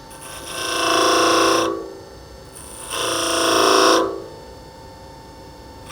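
A skew chisel tip marks a spinning wooden Christmas tree blank on a lathe, giving two rasping, scraping passes of about a second and a half each, close and fairly loud, separated by quieter lathe hum.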